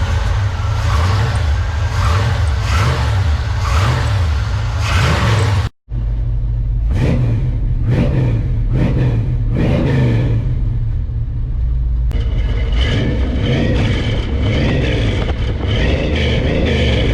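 Chevrolet C-10 pickup fitted with a motor home 454 big block V8, revved repeatedly: a deep loud rumbling idle rising into several sharp throttle blips, a brief cut in the middle, then sustained heavy engine drone.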